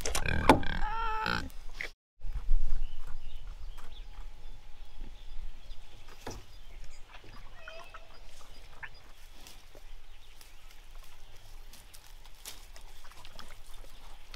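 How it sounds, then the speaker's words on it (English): Pigs on a homestead grunt while chewing on brambles as they clear land, with a loud close burst at the start and then softer scattered grunts and rustling over outdoor ambience. "they're grunting a little bit behind me because they think I'm giving them food"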